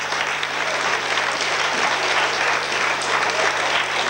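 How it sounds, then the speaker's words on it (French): An audience at a musical theatre performance breaks into steady, dense applause, a continuous wash of many hands clapping at full volume throughout, with no talk over it. "je vous demande de vous applaudir tellement vous avez été géniaux"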